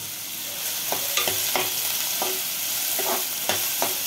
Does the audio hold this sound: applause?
no